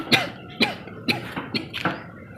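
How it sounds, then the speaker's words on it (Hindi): A person coughs in five sharp, hacking bursts spaced about half a second apart, close and clear with no talk around them. "बस 2 दिन से थोड़ी खांसी आ रही है शदीद"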